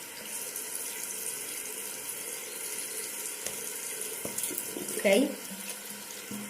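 A tap runs hot water, used for making slime, as a steady hiss of flowing water throughout with a brief clatter near the end, moderately faint, and a voice briefly speaks.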